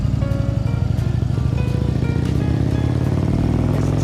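An Indian motorcycle cruises along a road in Tennessee, its engine giving a steady, low, throbbing rumble close by for a few seconds with no talking.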